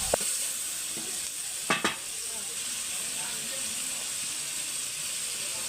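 Onion, tomato, chili and ginger-garlic paste frying in oil for a beef curry, giving a steady loud sizzle and hiss throughout, with a couple of brief clanks of stirring early on.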